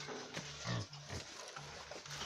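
Pigs in a farm pen at a pig farming project in western Zambia grunt and squeal in short overlapping bursts, close and fairly loud, over a steady background hiss.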